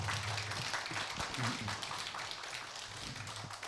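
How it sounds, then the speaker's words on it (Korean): Faint, steady applause from a lecture audience at a philosophy humanities forum, a dense patter of many hands clapping continuously and heard from a distance. "우리 국방대학교 홍태영 교수님에게 큰 격려의 박수 한번 부탁을 드립니다."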